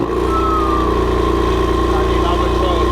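A BMW M4 fitted with an Armytrix exhaust, valves open, on its first cold start: a steady, loud engine drone with a rising whine, heard up close from the rear of the car.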